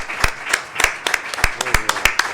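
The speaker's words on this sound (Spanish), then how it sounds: "aplauso muy largo." After a music conservatory octet performance, an audience claps in a loose, uneven patter of individual hand claps, fairly close and steady throughout.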